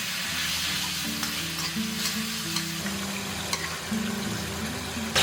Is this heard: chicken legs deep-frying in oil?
yes